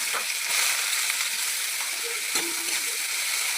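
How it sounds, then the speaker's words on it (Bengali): Chopped carrots fry in hot white cooking oil with a steady, bright sizzle and hiss. A few faint stirring knocks sound from the pan, and there is no talk. "এগুলোকে একটু ফ্রাই করতে হবে।"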